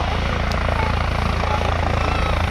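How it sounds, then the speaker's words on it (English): A helicopter landing at an air festival, its heavy rotor thud and engine roar loud and steady throughout, with faint voices beneath. "The orange batons guiding the helicopter nice and gently and slowly into crowd centre."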